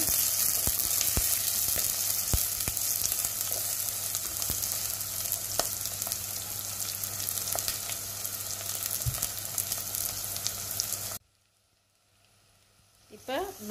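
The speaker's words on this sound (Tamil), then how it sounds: "ஒரு டூ மினிட்ஸ் இந்த வெங்காயத்தை வதங்க விடுவோம்" Onions sautéing in a pan for a Jaffna-style Sri Lankan beetroot curry, a steady close sizzle with scraping stirs, breaking off near the end into near silence before a faint clatter returns.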